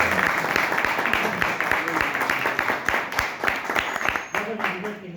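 A seated audience at a Spanish-language lecture gives a steady round of applause that fills the room, with voices chattering under and over the clapping.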